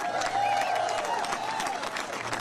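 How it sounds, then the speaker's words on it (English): Crowd at a Texas Senate Democrats gathering in Boston breaks into continuous applause, dense and steady clapping with some crowd noise mixed in. "So give yourselves a big round of applause."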